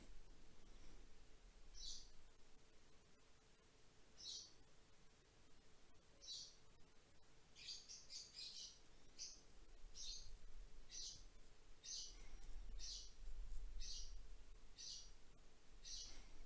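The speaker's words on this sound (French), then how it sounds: "On entend un peu mes oiseaux en fond" Pet birds chirp in the background of an indoor room, short bright tweets repeating every second or so, faint and distant, with a low hum underneath and no talking.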